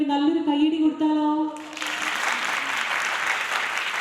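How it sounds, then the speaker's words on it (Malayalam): A singing voice on a stage music show breaks off, and the audience bursts into steady, dense applause for the earlier singers, continuing evenly and fairly loud to the end. "നേരത്തെ പാടിയും അതുപോലെ നമ്മളെ ആസ്വദിപ്പിച്ചും കടന്നുപോയവർക്ക് വേണ്ടി നല്ലൊരു കയ്യടി കൊടുത്താലോ?"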